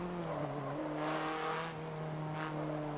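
Racing car in a sim racing game driven with a Logitech G920 wheel, engine revving hard and climbing through gears in a steady, loud drone with brief tire squeal, heard alone without talk.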